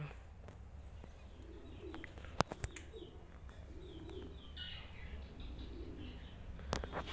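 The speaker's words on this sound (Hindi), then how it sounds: "ये हमारे बजीज, ये हमारे ब्रीडर मेल है।" Budgerigars in a breeding aviary chirping faintly at a distance, with scattered soft tweets and sharp clicks over a low, steady background hum.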